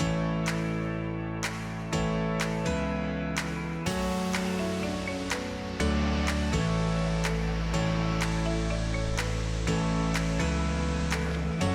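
A waterfall in a national park in the Top End of the NT pours in a steady, loud, broadband roar throughout, with a continuous hiss of rushing, splashing water and no voices.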